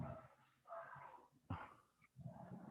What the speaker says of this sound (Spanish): Es el micrófono de José Luis el que está transmitiendo ladridos de los perros.